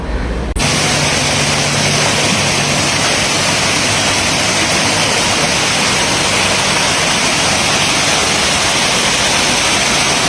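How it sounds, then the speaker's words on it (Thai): An artificial waterfall pours in a continuous, loud, even rush of falling water that stays unchanged throughout. "เหมือนได้ไปเที่ยวน้ำตกจริงๆเลยนะคะ น้ำตกจำลองนะคะ"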